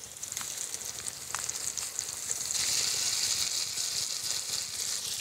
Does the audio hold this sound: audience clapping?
no